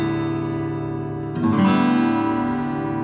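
A pricier full-solid natural-wood acoustic guitar rings out a sustained chord, then a fresh strum near the middle brightens the sound before it settles into a long, even decay.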